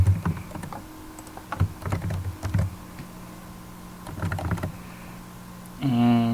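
Fingers type a username and password on a computer keyboard in irregular clusters of close keystroke clicks with brief gaps, ending in a short buzzing tone.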